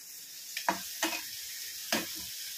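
Cabbage, ginger and tomato fry in a pan for an egg samosa filling, with a soft steady sizzle broken by a few sharp scraping stirs of a spoon against the pan.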